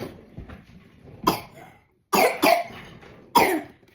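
Several sharp coughs come in quick bursts, one alone and then a tight pair, with another after a short pause, close by and fairly loud.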